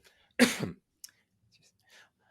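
A single short cough close up, followed by faint breathy sounds and quiet silence.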